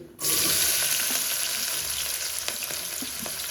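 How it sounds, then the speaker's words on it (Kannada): Finely chopped onion hitting hot oil for paneer pulao, a sudden loud sizzle that bursts in and settles into a steady hiss with light stirring scrapes, no talking. "ಆ ಈರುಳ್ಳಿನ ಇದಕ್ಕೆ ಹಾಕ್ಕೊತಾ ಇದ್ದೀನಿ"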